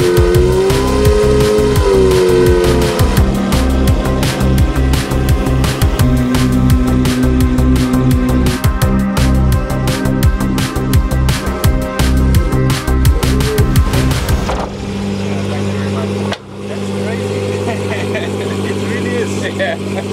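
A loud, revving Lamborghini Murcielago GT1 race car engine roars continuously with high-pitched whine and pitch sweeps, then drops to a lower steady rumble near the end.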